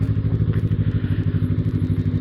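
A Kawasaki ER6F Ninja 650cc two-cylinder motorcycle rides along with a loud, close, evenly pulsing engine rumble and a clattering low throb.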